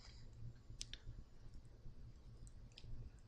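Mouse clicks while selecting a menu setting: a few sharp, faint, close clicks spaced irregularly over quiet background hiss, with no talking in between.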